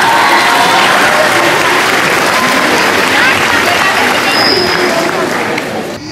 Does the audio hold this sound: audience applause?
yes